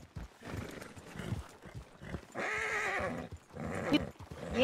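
A donkey in Red Dead Redemption 2 sounds two drawn-out, harsh braying calls at moderate distance, separated by softer grunts and shuffling.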